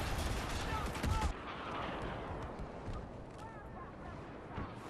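Gunfire from a Star Wars Battlefront beta match crackles in bursts, loudest in the first second and then thinning to scattered distant shots over a steady battle din, with a voice talking over it.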